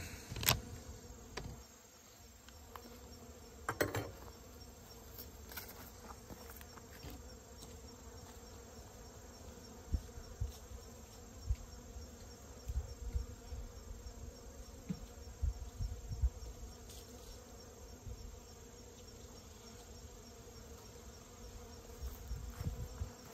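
Honeybees buzz around a hive while robbing, a steady, low, continuous hum of many insects close by, with occasional louder passes and soft knocks throughout.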